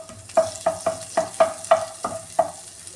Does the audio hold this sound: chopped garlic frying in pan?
yes